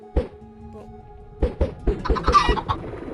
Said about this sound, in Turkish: yanlışlıkla tavuk çıkardım